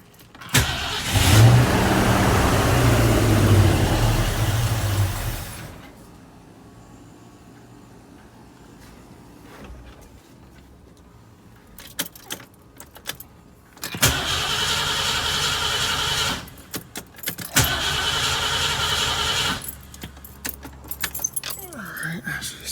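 Keys jangle loudly, then a 1969 Ford Mustang fastback's engine cranks and catches twice, with a poorly set carburetor, running and revving briefly each time, with voices talking nearby.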